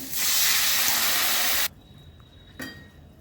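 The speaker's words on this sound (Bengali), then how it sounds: "মশলা কষানো হয়ে গেছে, জল দিয়ে দিচ্ছি।" Water poured onto hot fried spices (chilli, coriander and cumin powder) in a pan for dhokar dalna lets out a loud, steady burst of hissing steam for about a second and a half, cut off abruptly, then a brief softer hiss.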